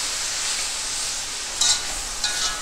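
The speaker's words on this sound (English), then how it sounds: "We'll give this a nice stir." A pot of vegetable beef soup with meat and its juices is stirred, giving a bright, wet, continuous sizzle with a couple of short scraping swirls.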